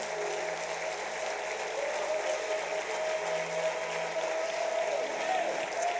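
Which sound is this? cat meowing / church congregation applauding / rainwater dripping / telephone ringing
church congregation applauding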